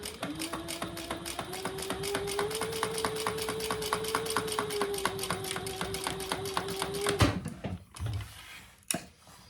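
A sewing machine stitches a hip bag in a fast, steady run of even mechanical clicks with a sustained motor hum, then stops abruptly, leaving a few faint handling sounds.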